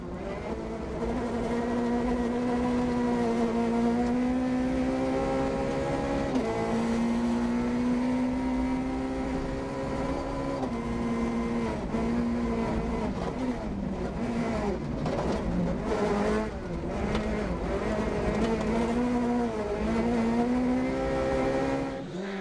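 A Peugeot 208 rally car in the 208 Rally Cup, Rallye Terre de Langres, drives a gravel stage in Haute-Marne, its engine loud and close, rising and falling through gear changes with gravel crunch beneath.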